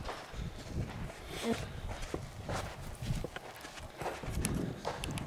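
Horse hooves clip-clop at a walking pace during therapeutic riding in San Felipe, with close, uneven thuds and light scuffs repeating steadily amid faint outdoor background noise.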